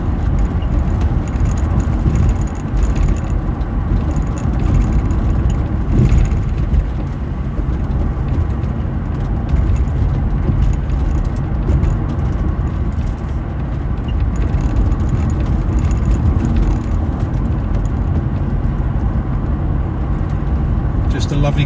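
A 1993 Jaguar XJS 6.0 V12 coupe driving, a steady, full low engine drone with road and wind rumble that holds even throughout, close and loud.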